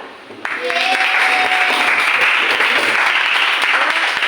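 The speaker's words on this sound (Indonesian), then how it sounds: "Bisa tepuk tangan?" Applause from a math class breaks out at once and holds steady and loud, a dense wash of many hands clapping together, with a faint tone or voice briefly audible early on.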